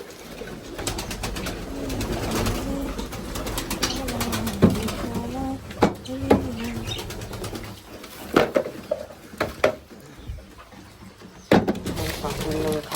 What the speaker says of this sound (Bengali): পায়রাগুলো এখন খেতে নামবে সব